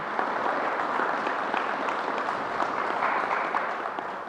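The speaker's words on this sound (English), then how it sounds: "another round of applause for getting it done" An audience at a New York governor's coronavirus press briefing claps steadily, a dense, even wash of applause lasting several seconds with no talk over it.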